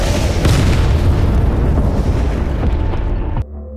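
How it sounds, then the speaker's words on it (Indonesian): A huge explosion tears through a research base in a film scene, a loud continuous rumbling roar with deep booming bursts that sustains for over three seconds before abruptly cutting to a quieter low hum. "Kapten Duping memutuskan meledakkan diri bersama dengan monster bunglon sekaligus menghancurkan pangkalan penelitian."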